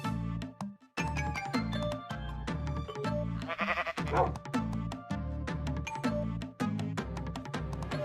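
Minecraft sheep bleating from the Xbox One edition, a few short bleats rising over steady looping game music and chimes, fairly loud and continuous throughout.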